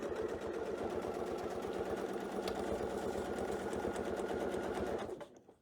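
A sewing machine stitches steadily along a curved quilting template for an apple core quilt, running close and loud with a fast, even needle rhythm for about five seconds before stopping abruptly.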